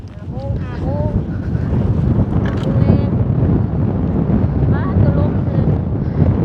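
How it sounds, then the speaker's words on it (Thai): Strong wind buffets the microphone outdoors on a hot day of hired wood-gathering work, a loud, steady rumbling roar throughout, with faint voices and chirps half-buried beneath it. "ลมแท้ๆพี่น้องเอ้ย"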